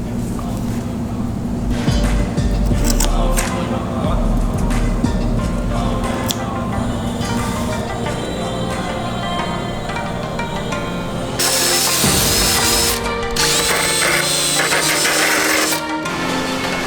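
Gooey resin repair on a Corvette C6's bodywork being trimmed with a tool, giving close, harsh rasping and scraping noise that runs steadily, then swells into a louder, brighter burst near the end.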